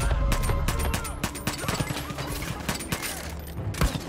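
An AK rifle in Far Cry 5 fires rapid, loud bursts of close gunfire, each shot a sharp crack repeating through nearly the whole stretch in dense automatic volleys with little pause.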